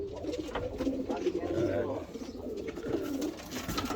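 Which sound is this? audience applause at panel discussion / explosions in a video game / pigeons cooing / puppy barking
pigeons cooing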